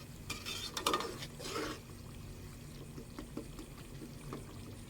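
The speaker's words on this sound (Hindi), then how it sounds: "दही को अच्छी तरह हमने इसके अंदर मिक्स कर लेना है" A spoon stirs yogurt into chicken nihari in a cooking pot, giving faint, soft scraping and clinking strokes near the start and then a quiet, low simmer with no talk.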